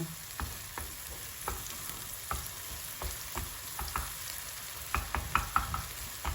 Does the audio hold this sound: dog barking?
no